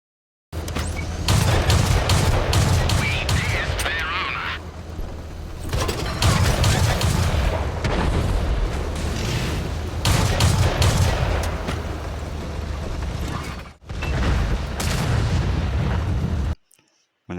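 Tank cannon fire and explosions in World of Tanks, loud and near, over a steady rumble of engine and battle noise. Short silent gaps break the sound.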